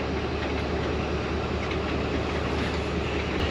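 Badar Express passenger train on the Lahore to Sangla Hill line, pulling away after a halt: a steady, dense rumble of rolling stock and engine, even and unbroken, heard from on board with no talk.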